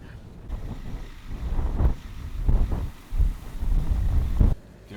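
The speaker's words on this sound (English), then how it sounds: "A little windy today." Steady wind buffets the microphone in strong rumbling gusts across an open pasture of rolling hills, rising and falling for several seconds, with no voices.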